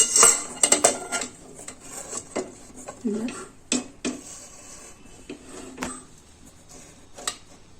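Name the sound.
metal cake tin placed inside pressure cooker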